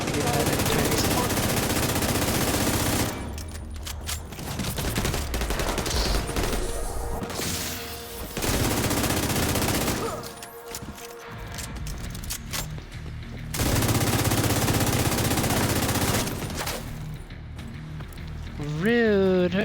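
Rapid bursts of automatic video game gunfire rattle out in several loud volleys separated by short pauses, with voices talking over the shooting.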